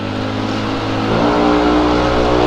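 A Yamaha Aerox or Honda Click scooter engine revs hard and loud on a night ride, a steady buzzing drone that swells and climbs in pitch, close and continuous.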